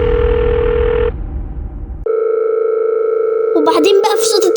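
Office telephone ringing: a steady electronic tone, a brief drop, then the tone returns loud and continuous with rattling clicks over it near the end.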